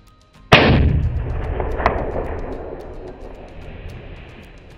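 A single loud rifle shot rings out during a mouflon ram hunt in Texas, a sharp crack followed by a long rolling echo that slowly fades across open country.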